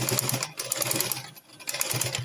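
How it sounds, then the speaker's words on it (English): A sewing machine overlocks the fabric edge of an abaya gown, its motor whirring in a close, fast stitching burst that briefly dips before resuming. "Overlock the edge."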